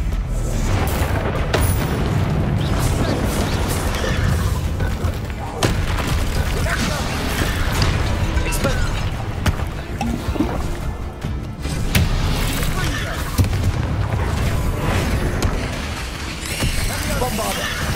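Bombarda blasting spells in Hogwarts Legacy go off repeatedly as loud booming explosions mixed with dense combat noise, continuous and close, with a voice speaking over them.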